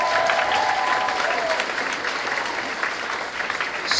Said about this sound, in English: everyone needs to give a huge round of applause for Jen Walsh